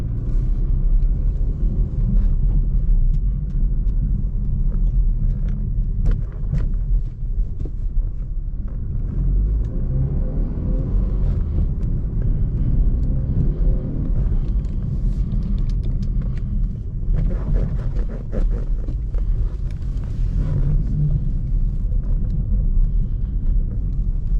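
A 2016 Chevy Camaro with a four-cylinder turbo engine and a newly replaced clutch drives in, giving a steady, loud low rumble that lasts throughout with no talking.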